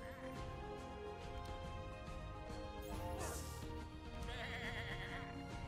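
Sheep bleating in the video game Across the Obelisk, heard against dense game music and effects, with a brief louder burst partway through and a layered, continuous busy background.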